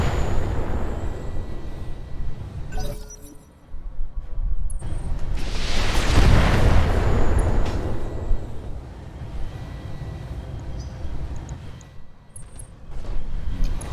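A long-range missile salvo launched in the video game Battletech, heard as a loud whooshing burst with rumbling impacts swelling mid-clip over a sustained roar, with scattered smaller pops.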